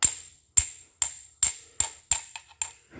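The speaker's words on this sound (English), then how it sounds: "I take a hammer and not on a block, but like on the back of my vise where it's got a little anvil, and I hit it here, hit it here" Hammer blows on the small anvil at the back of a steel vise, knocking a pipe plug out of a Pontiac 400 engine part: eight sharp, ringing metallic strikes in a steady rhythm, close and loud, with no talking.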